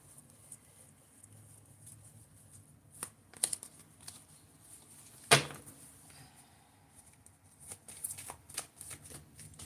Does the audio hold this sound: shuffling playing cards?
yes